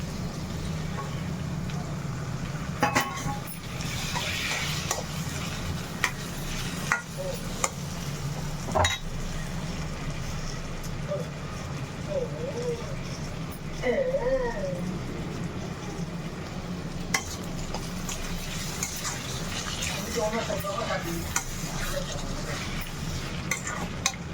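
Food frying with salt in a pan, with tomatoes added, for a prawn gravy gives a continuous close sizzle under repeated stirring scrapes and occasional utensil knocks over a long stretch.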